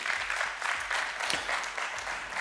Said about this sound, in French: On peut applaudir Benoît Biteau